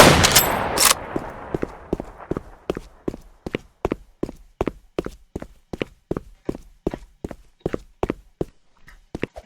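A steady series of about twenty evenly spaced gunshots from a gun in the Roblox game Zula, each a crisp close crack, with a louder burst at the very start and faint talk.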